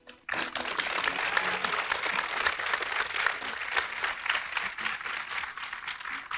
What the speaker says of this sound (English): I just want to applaud you guys